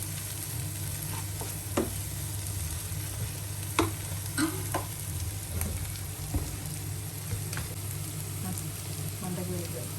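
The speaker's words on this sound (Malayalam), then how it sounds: "ശകലം മസാലപ്പൊടി കൂടെ ഒന്ന് ആഡ് ചെയ്ത് കൊടുക്കുകയാണ്. എന്നിട്ട് നമുക്ക് നല്ലപോലെ ഇതൊന്ന് ഇളക്കിയെടുക്കാം" Spiced samosa filling fries in a pan under a steady crackling sizzle, broken by intermittent stirring scrapes and clicks of a spoon against the metal.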